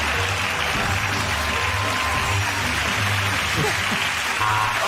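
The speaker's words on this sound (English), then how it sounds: "give that round of applause to James, Sarah and Andy" A studio audience at a comedy panel show applauds, a dense, steady wash of clapping holding at even volume throughout, with faint voices buried underneath.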